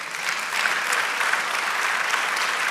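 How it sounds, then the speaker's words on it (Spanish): Sustained applause from a church congregation fills the space, an even, dense roar of many hands clapping without pause, moderately loud and unaccompanied by talk. "Denle un aplauso al Señor"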